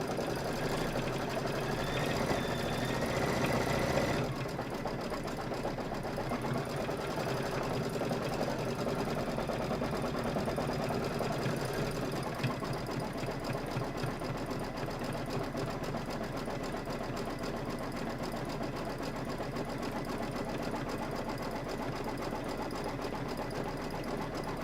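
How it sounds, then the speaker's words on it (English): A sewing machine stitches out the numeral 1 for a Christmas cup sew-along project. It runs as one loud, steady mechanical whir of rapid needle strokes for the whole stretch, with no talking over it. "this is going to stitch out the 1."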